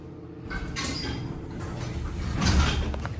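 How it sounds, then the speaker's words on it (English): A Haughton hydraulic elevator door slides shut with a soft mechanical rumble and a light thud at the close, heard up close in a quiet space. "Door closes basically instantly."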